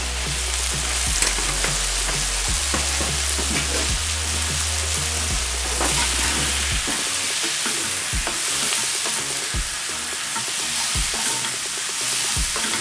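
Jamaican-style pepper shrimp seasoned with Old Bay, pimento and apple cider vinegar sizzle loudly in a pan, a constant close frying hiss with stirring scrapes over a low hum at first.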